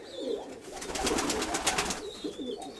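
A domestic pigeon coos close by in soft, throaty rolling phrases, with a faint higher chirp or whistle also audible in the background.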